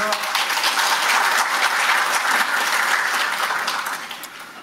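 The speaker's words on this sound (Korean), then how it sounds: "내빈 소개해 드릴 때마다 큰 박수 부탁드리겠습니다" A room of guests at the 2025 Saemangeum tidal power policy forum claps steadily as each dignitary is introduced, a dense, even wash of applause that holds for several seconds before tapering off.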